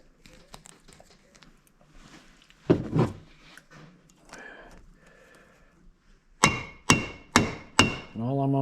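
A trap stopper is hammered tight on an anvil, four loud sharp metal strikes in a steady rhythm near the end after quieter handling and faint talk.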